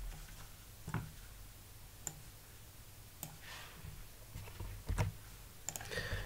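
A few scattered key presses on a computer keyboard while entering a sudo password on an Ubuntu server, sparse and quiet clicks at irregular intervals with no talking.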